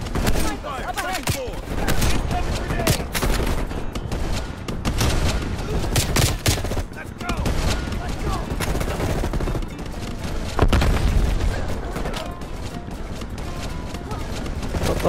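Bursts of automatic rifle fire and scattered shots in Call of Duty: Black Ops Cold War crackle loudly and nearly continuously, mixed with game noise and occasional voices.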